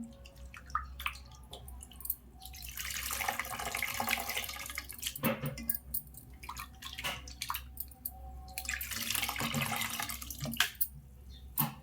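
Tamarind extract is poured into a pot of pappu chaaru, a lentil soup, in two separate liquid pours with soft drips between them, close and fairly quiet, with no voices.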